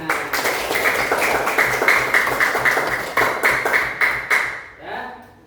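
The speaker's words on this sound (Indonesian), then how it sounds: "Oke, tepuk tangan." Rhythmic hand clapping in a classroom, steady repeated claps for several seconds that stop abruptly near the end, with a brief voice afterward.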